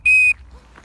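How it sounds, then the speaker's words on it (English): A single short, clear whistle blast used to recall dogs, sharp and close, then quiet background. "So maybe I should whistle then."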